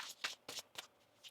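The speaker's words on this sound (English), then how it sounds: "One more shuffle here." A tarot card deck is shuffled by hand, quick crisp riffling bursts in a rapid rhythm, close and quiet, with no talking.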